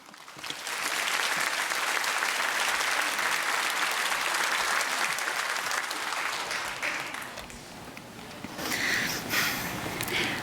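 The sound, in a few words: church congregation applauding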